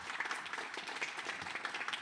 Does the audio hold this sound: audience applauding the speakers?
yes